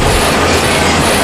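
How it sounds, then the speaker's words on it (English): A train rolls past close to a college baseball field during a game, a loud, steady rumble with rail clatter filling the whole moment, no voices over it. "we've got a train coming through, and you can hear it."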